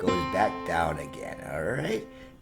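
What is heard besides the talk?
No everyday noise stands out behind the speech.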